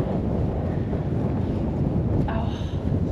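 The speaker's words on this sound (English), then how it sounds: "I think you can hear the wind very clearly in some directions" Strong wind buffets the microphone on an open stretch of the Camino de Santiago trail in Spain, a loud continuous roar with no pauses.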